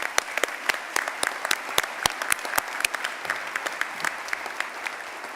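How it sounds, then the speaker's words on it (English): A commencement audience claps for staff, with sharp, separate hand claps popping out of the crowd at an uneven pace over a soft background hiss, fairly close and moderately loud. "they are also worthy of a healthy round of applause"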